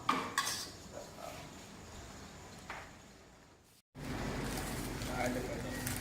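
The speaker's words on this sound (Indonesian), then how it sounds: "Aduk aja." A utensil clinks and scrapes in a cooking pot of soup at a Balinese nasi lawar stall in Ubud, with a few light knocks early on over faint room noise, then a brief dropout before a louder steady background.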